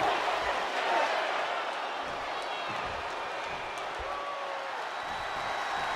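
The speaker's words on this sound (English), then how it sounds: "They're actually cheering." Video game crowd in WWE2K25 cheering during an AJ Styles versus Santos Escobar match, a steady broad roar of arena noise filling the whole stretch with faint talk mixed in.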